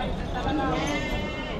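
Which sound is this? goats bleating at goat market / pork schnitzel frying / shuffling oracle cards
goats bleating at goat market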